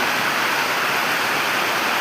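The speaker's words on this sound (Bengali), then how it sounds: "এত পানি আর এত বৃষ্টি" Heavy rain pours down as water runs and pools through a narrow lane, a loud, steady, dense wash of noise with no voices.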